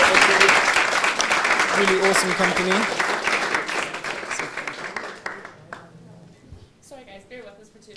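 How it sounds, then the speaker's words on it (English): A careers fair audience applauds a company for about five seconds in a dense, steady patter of clapping, which fades as a voice speaks over and after it. "if you could have a massive round of applause for Sahaj"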